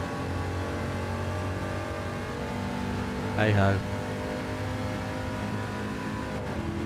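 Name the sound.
car engine driving in a racing video game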